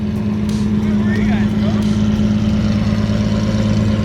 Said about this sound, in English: Definitely got some kind of aftermarket exhaust system on this one.